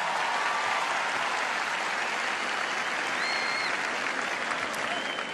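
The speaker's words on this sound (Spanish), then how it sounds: "quiero que este primer aplauso esta noche sea para ustedes con toda mi gratitud" An audience at a motivational talk applauds in a thick, continuous roar of clapping that stays loud and even from start to finish, with some crowd noise mixed in.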